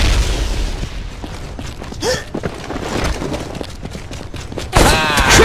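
Frag grenade blasts and gunfire fill a battle royale match in the video game M.A.R.S, with dense crackling shots, booming impacts and a loud burst near the end.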